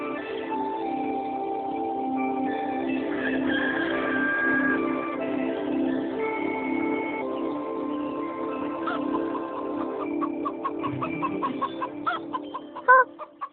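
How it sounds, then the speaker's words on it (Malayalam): Hen clucking repeatedly at moderate loudness, a steady run of layered calls across the whole stretch, growing choppier and more staccato toward the end with a few sharp bursts. "കോഴിയമ്മയും പൂപ്പിയും."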